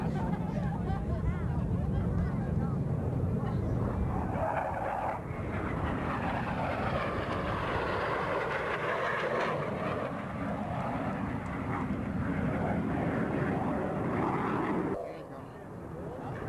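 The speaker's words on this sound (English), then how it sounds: "Our 2 solo pilots are approaching once again, this time to demonstrate the inverted flight capabilities of these F/A-18s." Two F/A-18 jets fly inverted at a 1991 military air show at Quonset ANGB. A powerful, sustained engine roar shifts in tone as they pass, then drops off sharply near the end.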